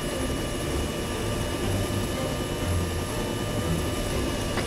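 A helicopter moving away during an airsoft game, a steady droning rotor and engine noise with a high whine, fairly loud and continuous with no voices.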